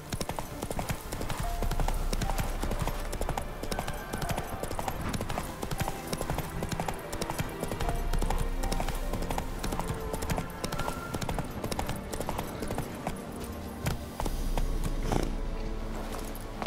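Hooves of the horse Roach clip-clop in the video game The Witcher 3, a steady close trotting rhythm throughout with a low rumbling game ambience underneath.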